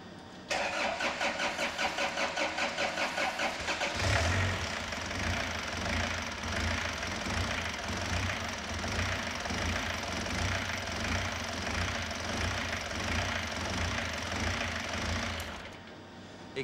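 An engine is cranked over by the starter with ether sprayed into the intake manifold, giving a fast rhythmic cranking whir that catches after a few seconds into a loud, steady running roar before cutting off.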